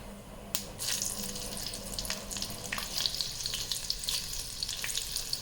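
Curry leaves and chili pieces hit hot oil with asafoetida in a pan, a sudden, close, steady sizzle with sharp crackles and spits that continues evenly throughout.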